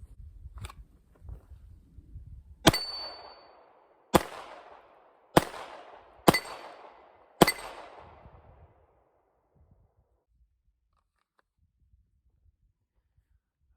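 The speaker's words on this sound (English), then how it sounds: "That's a hair close for steel, but because we're using these soft lead rounds, they are just blowing apart." Five loud, sharp gunshots ring out one after another, each followed by a short decaying ring as soft lead rounds strike steel target plates outdoors, then quiet.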